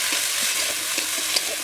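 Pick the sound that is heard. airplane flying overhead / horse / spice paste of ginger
spice paste of ginger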